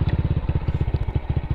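An old 2001 motorcycle with a freshly repaired clutch housing and engine idles after starting, a close, steady, rapid thumping putter with even beats throughout.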